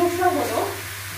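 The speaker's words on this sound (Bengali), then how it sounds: "এখন চিকেনটা আমি দিয়ে একটু নাড়াচাড়া করছি" Chicken pieces sizzle and hiss steadily in a hot pan with spices as they are stirred, a close, continuous frying sound that slowly fades.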